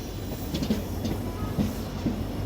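The 14888 Barmer-Rishikesh train rolls along the track with a steady rumble and rhythmic wheel clatter over rail joints, close and continuous.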